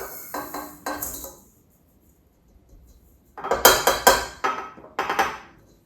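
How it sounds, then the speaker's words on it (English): Sugar poured into a mixing bowl while cookie batter is made, heard as two bursts of gritty clinking and rattling against the bowl with a quiet gap between them, close and fairly loud. "we're going to start with putting the sugar in the bowl"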